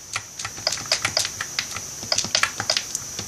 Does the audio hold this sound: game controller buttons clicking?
yes